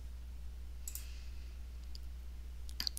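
Computer mouse clicks while selecting map items on a web page: a couple of faint, sharp clicks near the middle and a tight cluster near the end, over a low steady hum.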